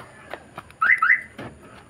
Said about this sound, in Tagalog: Titisingin natin kung nagana na yung ating alarm.